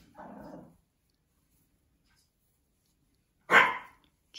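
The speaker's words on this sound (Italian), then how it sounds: "c'è anche il cane che ci fa compagnia non so se l'avete sentito" A dog barks twice, a faint low bark at the start and a sharper, louder one a few seconds later, with silence in between.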